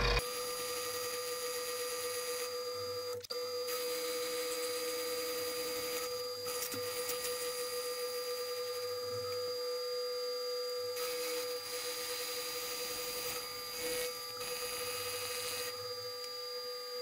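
Milling machine taking a first cleanup pass on a metal antenna mount part, a steady droning whine with a fixed tone, continuous and moderately loud, with a sharp tick early on and no talk.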